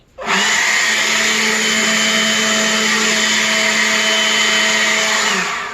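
A Ryobi One+ 18V cordless leaf blower spins up quickly and then runs at full power, a loud, steady, close whooshing whine with a constant motor hum that holds level for several seconds without talk.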